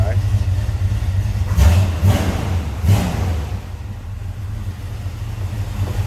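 A 1967 Chevrolet Camaro Convertible with a mild cam cranks over, catches and settles into a steady, low, rumbling run. The engine is close and loud, with a couple of revs rising early on.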